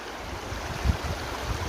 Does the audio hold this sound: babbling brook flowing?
yes